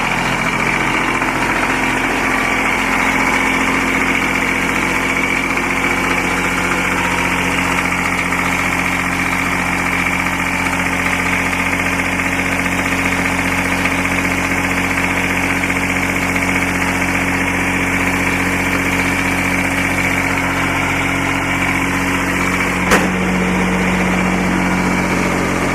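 A Kubota diesel engine, hot-wired through its starter, runs at a steady idle with a constant low drone and vibration, loud and close, with a brief click near the end and no talk.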